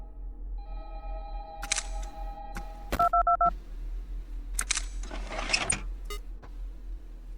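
Telephone dialing tones from the horror game Five Nights at Candy's 2: a short burst of electronic keypad beeps stands out among clicks and a low background hum, with no talking.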